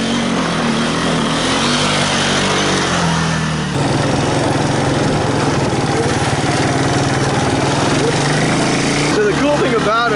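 A Yamaha 225DX three-wheeler's small engine drones loud and steady while riding through snow and mud, with a shift in pitch partway through and rising revs near the end.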